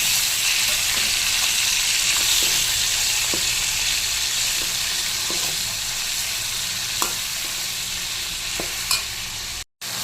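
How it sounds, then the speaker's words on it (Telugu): Tomatoes fry in hot leftover oil in a pan, producing a loud, continuous sizzle with occasional clicks of stirring, ending in a brief dropout. "దీంట్లో అదే నూనె ఉంది కాబట్టి టమోటాలు వేసేద్దాం."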